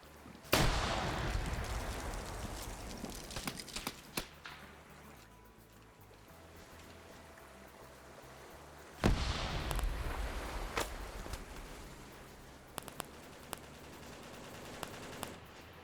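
A frag grenade explodes in a British versus Swedish PvP shooter game, two sharp blasts several seconds apart amid scattered distant gunfire cracks, fairly faint overall and with no talking.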